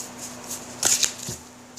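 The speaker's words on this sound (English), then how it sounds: "just shuffling through the deck and picking out cards" A tarot deck, the Arthurian Tarot, being shuffled by hand, a few quick soft riffling bursts of cards close up, with a brighter flurry near the middle against a quiet room.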